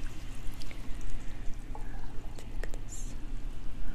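Water is poured during an ASMR hair-washing session in a soft trickling stream with faint drips and wet squishes, close and quiet, with hushed whispering underneath.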